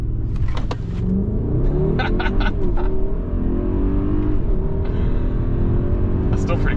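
A 2021 Mercedes-Maybach GLS600 accelerating hard from a launch, its engine a loud, steady rumble rising through aggressive gear shifts, with occupants talking over it throughout.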